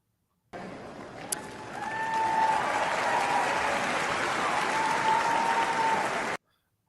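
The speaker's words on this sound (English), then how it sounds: "It's a decent cheer for that size of crowd." A stadium crowd at a Monday night game, the stands not full, bursts into sustained cheering and applause that holds steady for several seconds, with a whistle-like tone rising above the roar before it cuts off.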